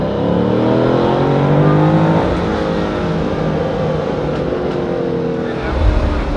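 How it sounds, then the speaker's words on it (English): A car's engine rises gently in pitch as it slowly accelerates, a steady, close hum with a whirring drone throughout. "now once we are straight, we're just going to want to slowly accelerate."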